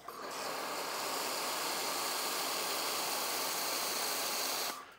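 Detailing pressure washer, an AR630tss or BigBoi Washr Pro, spraying thick foam from a foam cannon onto a wet panel: a loud, constant hissing rush starting abruptly and cutting off after about four seconds, close up.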